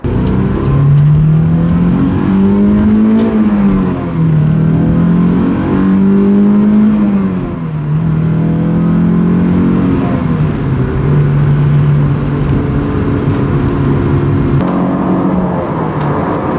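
A Honda S2000 cruises on the freeway at about 70 mph, its engine note droning steadily with slight rises and dips in pitch, loud and close from inside the car, with no talk over it.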